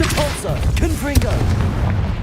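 Spell blasts from Hogwarts Legacy, a force-push Compulsor and a fiery Confringo, thud and boom through the clip, heard under a man's spoken incantations.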